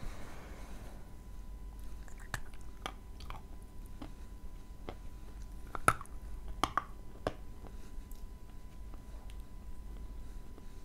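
Someone bites into a sticky piece of Okean Volna candy and chews it; a dozen sharp clicks and soft squishes, close and fairly quiet, with no talking.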